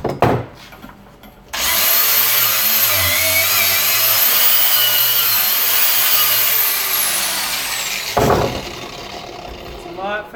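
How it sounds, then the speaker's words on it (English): A wire cup brush on a power tool grinds weld slag off metal on a fire stand: a loud, harsh, sustained whirring scrape lasting several seconds, preceded by brief talk and ending as the tool spins down. "Or the easiest way is just to use this wire cup."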